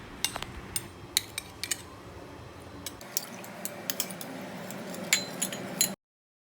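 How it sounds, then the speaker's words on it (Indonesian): Light clinks and scrapes of a utensil stirring coconut milk in a pot, repeated irregularly, with a low bubbling hiss of the simmering milk underneath; no talking. "Didihkan dengan api kecil dan terus diaduk, supaya santannya tidak pecah."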